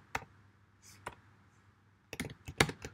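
Typing on a computer keyboard, a few isolated key clicks followed by a quick burst of keystrokes near the end, close and fairly quiet with no talking.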